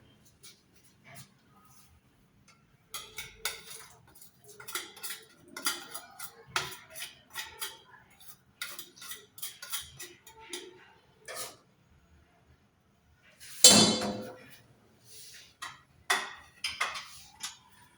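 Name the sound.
spices being mixed into yogurt and cooking oil in a bowl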